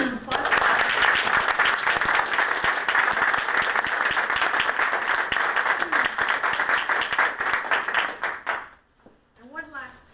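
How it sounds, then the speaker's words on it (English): A Toastmasters club's anniversary audience gives an award recipient a long, dense round of applause that stays steady and loud for about eight seconds before stopping abruptly. A voice briefly speaks afterward. "let's give a big round of applause"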